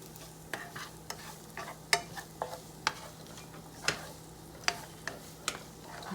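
Shrimp fried rice searing in a hot pan as it is stirred, a low constant sizzle under repeated sharp scrapes and clinks of the spatula at an uneven rhythm.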